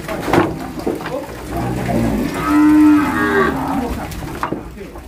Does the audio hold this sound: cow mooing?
yes